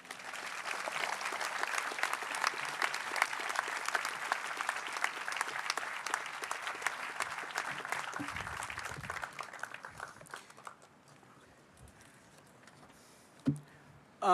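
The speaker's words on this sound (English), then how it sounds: "Let's give another applause to Eric for almost 14 years of directorship." Audience at a 2015 architecture school graduation ceremony breaks into long, dense applause that holds strong for about nine seconds, then thins and fades to scattered claps and quiet room noise.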